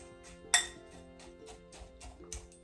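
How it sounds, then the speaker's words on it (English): A fork clinks and scrapes in a bowl, mixing white sugar into crushed gluten-free vanilla wafer cookies: one sharp clink followed by softer, scattered taps and scrapes, close and quiet. "I'm going to use a fork to mix it together first"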